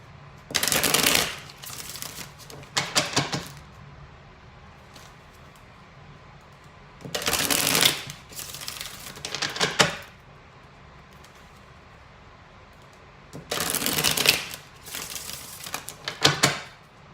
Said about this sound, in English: One more shuffle. You know I love to shuffle.